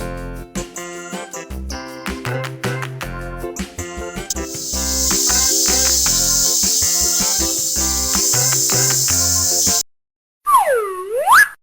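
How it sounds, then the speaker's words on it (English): A cicada gives a loud, steady, high-pitched buzzing drone that holds for several seconds, set among busy cartoon-style music and effects with a sliding boing at the end. "Cicada."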